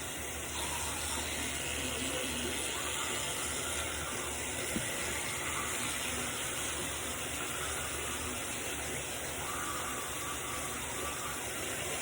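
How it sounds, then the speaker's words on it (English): Tap water runs steadily throughout, a constant gush and hiss while a toothbrush is wetted and used for brushing teeth; no voices are heard over the flow. "So we're gonna put some water on the toothbrush, and then I put toothpaste."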